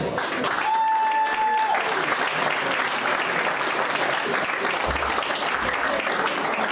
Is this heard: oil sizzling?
no